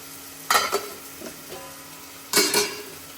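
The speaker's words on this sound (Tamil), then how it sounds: "அடுத்து தக்காளி. தக்காளிக்கு வந்து உப்பு மஞ்சள் போட்டுக்கலாம்." Tomatoes seasoned with salt and turmeric fry in a pan, and two loud bursts of stirring and scraping stand out over a low sizzle, with a few lighter clinks in between.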